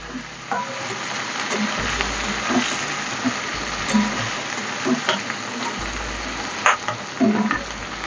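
Spring onions sizzle in hot oil with panch phoron, a steady close crackle with spatters, while a spatula scrapes and stirs the pan in irregular bursts.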